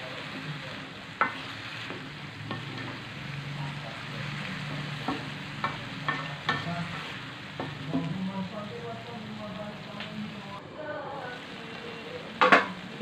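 Green beans and pumpkin stir-fry stirred in a pan, with a utensil scraping and clacking against the pan in irregular strokes over a steady soft sizzle, close and fairly quiet, with no talking.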